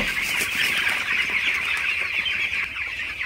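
A dense, continuous chorus of many 15-day-old broiler chickens clucking and peeping together, as from a large flock indoors, loud and close with no talking.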